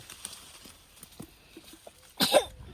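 During a plum harvest, a single sharp sneeze bursts out near the end, loud and close, after a stretch of faint rustling and small knocks.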